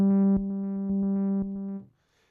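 Synthesizer sequencer drone: a steady buzzy tone pulsing in a regular rhythm of short steps as its filter cutoff shifts, then cutting off into near silence.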